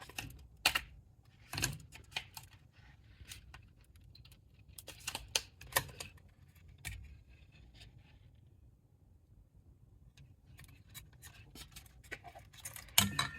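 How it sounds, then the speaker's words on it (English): Mechanical keys on a 1980s home telephone keypad are pressed one by one, giving sharp, close clicks in irregular bursts with quiet gaps between them. "And these are the keys, also mechanical."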